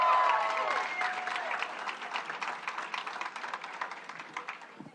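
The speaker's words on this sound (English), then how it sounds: "I want you to give a round of applause to Ed Perlmutter for the amazing job he did" An audience applauds at a senator's election-night acceptance speech, loud dense clapping that starts strong and gradually thins and fades over five seconds.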